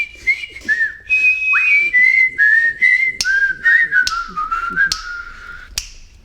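A skilled whistler performs a tune, with clear, close, warbling melodic phrases and rhythmic finger snaps keeping the beat throughout.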